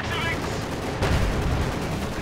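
Panzer IV tank firing in a Company of Heroes 2 battle: a sharp gunfire blast about a second in, set among continuous rumbling battle noise with other shots, and a commentator's voice faintly present.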